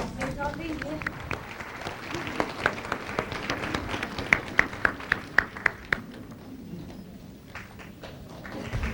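Audience applause greets Master Qinghai's arrival, a broad wash of clapping with sharp individual claps standing out midway, fading toward the end as voices murmur underneath.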